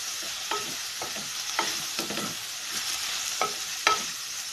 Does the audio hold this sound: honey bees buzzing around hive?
no